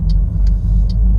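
Steady engine rumble of a car being driven in the City Car Driving video game, a continuous loud low drone with faint periodic ticking above it and no voices.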